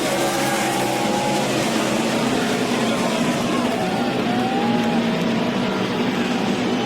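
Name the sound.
NASCAR Nationwide stock cars racing on restart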